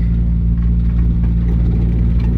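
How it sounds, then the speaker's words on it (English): A car's fuel pump gives a steady low hum with a constant drone and faint whirring above it, continuous and even throughout. "you'll literally hear the fuel pump just hum"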